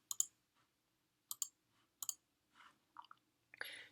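Sharp computer mouse clicks, close and crisp, in paired bursts with quiet gaps between, followed by a few softer clicks and a brief rustle at the end.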